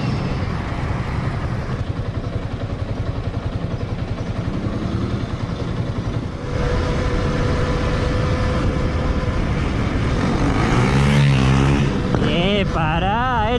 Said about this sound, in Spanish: He hecho 2 metros y ya ha sonado como un auto de TC.